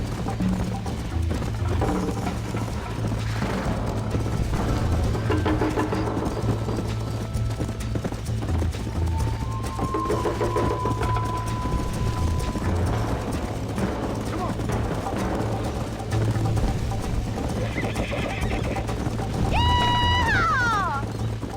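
A horse gallops in Red Dead Redemption, its hooves beating a fast, steady clip-clop throughout, with a whinny near the end and voices and game sounds mixed in.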